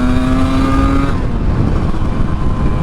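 A 1981 Yamaha RD350 LC two-stroke motorcycle revs hard close by, a loud rising engine tone that climbs for about a second and then breaks into a rough, blaring roar as the power comes in.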